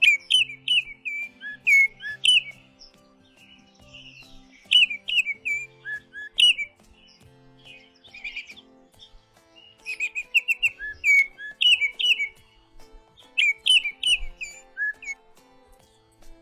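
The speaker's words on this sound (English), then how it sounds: "Let's check out the call of the Baltimore Oriole." Baltimore oriole calls at the Detroit Zoo ring out as clear, repeated whistled phrases in bursts of a second or two, separated by short pauses, close and alone.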